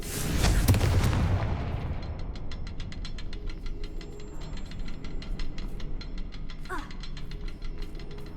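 Confringo spell in Hogwarts Legacy: a fiery blast booms loudly at the start, then a long crackling, clicking decay fades out, with a brief whoosh later on.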